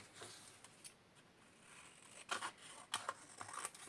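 Scissors snip through colored paper scraps while a flipbook is being crafted, several quiet, close cuts scattered across the stretch with soft rustling between them.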